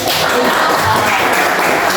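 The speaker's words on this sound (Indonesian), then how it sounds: "Beri tepuk tangan dulu" Classroom applause from students during a teaching practice lesson, a dense continuous wash of clapping filling the whole moment at close range.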